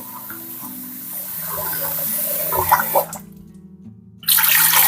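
Water pours and splashes into a kitchen sink in a steady rush, cutting out briefly before gushing again, with a faint tonal hum beneath.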